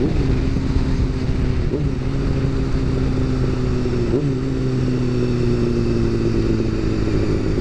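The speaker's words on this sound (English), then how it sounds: "check that bike out, right?" A motorcycle on a busy road, its engine a steady drone with slight pitch shifts as it moves past in traffic, continuous and fairly loud, mixed with the hum of surrounding vehicles and no talk.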